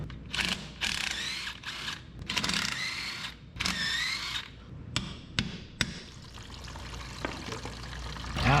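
Water pours and splashes out of an old, mud-caked front axle from a 1961 Mercedes, a loud broken gush with metallic knocks and clanks from tools on the axle, no talking.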